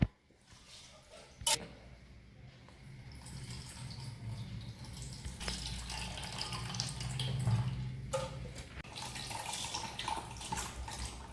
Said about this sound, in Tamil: இதுலேயே நம்ம புளியே வடிகட்டிக்கலாம்